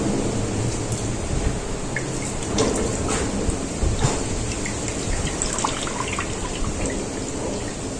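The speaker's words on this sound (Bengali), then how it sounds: "আমি এটা জল দিয়ে ভালো করে পরিষ্কার করে ধুয়ে দেব এইভাবে ছানার জলটা সম্পূর্ণ ঝরিয়ে নেবো" Water runs steadily off rinsed chhena, fresh milk curds, draining and splashing in a continuous close, fairly loud wash with scattered drips throughout.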